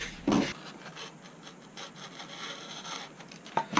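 A bevel being cut along the aileron control surface of a model triplane wing, a close, steady rubbing rasp with a louder scrape at the start and another near the end.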